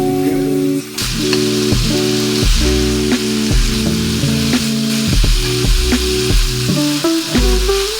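Spam sizzles hard in a hot pan for kimchi fried rice, a loud, constant frying hiss running beneath a bright melodic music track with repeating notes.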